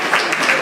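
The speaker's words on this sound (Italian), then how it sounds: "Facciamo un applauso" Brief burst of audience applause at a gala, a dense patter of many hands clapping, loud and continuous in a short snippet.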